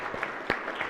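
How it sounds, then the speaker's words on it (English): A short burst of applause fills a Senate chamber, several distinct hand claps standing out against a steady murmur of clapping from the room. "Please join me in giving them a round of applause"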